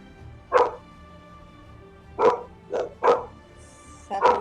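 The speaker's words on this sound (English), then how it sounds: "one will be barking in the backyard, one will be barking in the front yard" Dogs bark at a house, one in the backyard and one in the front yard: five short, sharp barks come in irregular bursts at moderate distance over a quiet room background, without speech.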